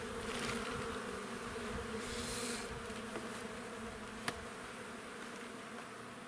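Honey bees buzz in a steady, droning hum around a hive in autumn, with a brief click partway through and no talking.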